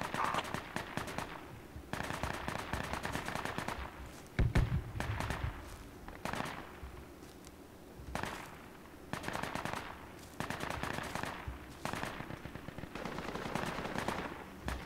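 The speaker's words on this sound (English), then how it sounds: "The AR is shooting." Rapid automatic gunfire from an AR rifle and a machine gun in a video game firefight, with dense bursts of shots in repeated volleys across the whole stretch and short pauses between them.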